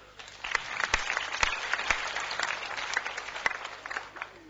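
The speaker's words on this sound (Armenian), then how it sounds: "որին խնդրակի ծափահարել։" An audience at a BarCamp tech event applauds its main sponsor, a steady burst of crowd clapping with some sharp individual claps standing out, moderately loud and without speech.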